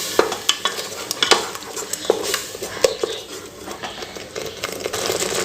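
Ground raw onion-tomato masala paste sautéing in oil, a close sizzle broken by repeated scraping and stirring knocks of a spoon against the pan.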